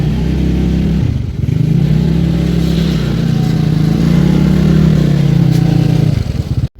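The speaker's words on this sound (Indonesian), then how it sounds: "Tiba-tiba aku udah balik aja dari pasar dengan motor tuaku ini." An old motorcycle rides along after a market trip, its engine droning loud and close with a steady low hum, easing briefly and then pulling again before cutting off abruptly.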